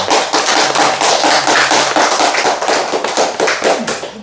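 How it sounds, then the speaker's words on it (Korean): Audience applause at the close of a Korean church talk by a pastor, dense continuous clapping from many hands, loud and sustained throughout with no talk over it. "없으시면은 박수로 이 자리를 마치겠습니다"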